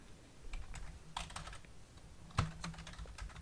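Fingers type on a computer keyboard while text is entered into a web form, a quick run of close, light clicking keystrokes in irregular bursts, with no talk.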